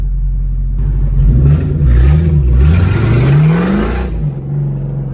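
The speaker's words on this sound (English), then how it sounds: "It's just so loud right now that it sounds like I'm at wide open throttle trying to spin it" A Ford Mustang two-valve V8 rumbles loud and close, its deep exhaust note rising and falling through several throttle blips, then settling back to idle.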